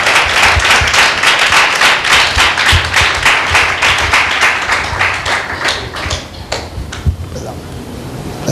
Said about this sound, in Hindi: एक जोरदार ताली देंगे परमेश्वर की महिमा के लिए